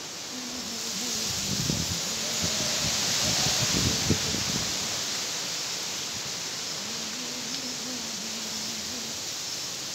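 Gusty wind rushes through garden trees and shrubs around a home courtyard in stormy weather, a steady broad hiss with leafy rustling that swells in the middle and eases off, with no voices.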